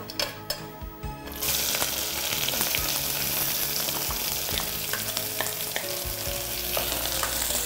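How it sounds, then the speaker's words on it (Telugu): Two thinly sliced onions hit hot oil in a pan for a brown rice and fried potato dish, breaking into a loud, steady sizzle that continues evenly after a few quieter clinks at the start. "ఇది కొంచెం బాగా ఎర్రగా వేగాలండి."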